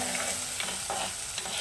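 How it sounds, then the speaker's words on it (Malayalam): Tomatoes sauté over a high flame in a clay pot, giving a constant sizzle broken by a few soft scraping stirs, close by and without speech. "മൺചട്ടിയിൽ ചെയ്യുന്നതുകൊണ്ട് ഞാനിപ്പോൾ ഹൈ ഫ്ലെയിമിലിട്ടാണ് ഇത് വാട്ടിയെടുക്കുന്നത്"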